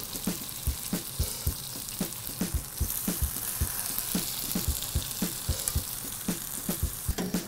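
Potato gnocchi sautéing in sauce in a hot pan, a continuous close sizzle broken by regular soft thuds and scrapes as the pan is worked, with no voices.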